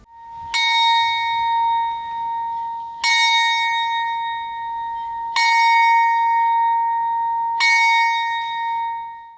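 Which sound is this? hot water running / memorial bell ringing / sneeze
memorial bell ringing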